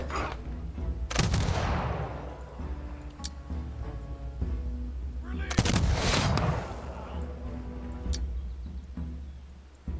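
Bursts of gunfire during a battle in the strategy video game Humankind, two loud volleys with crackling tails and scattered shots between them, close and dominant.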